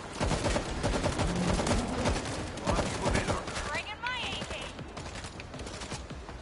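Auto turret in a zombie video game firing rapid continuous bursts of gunfire, loud and dense throughout, with a voice talking over it at times.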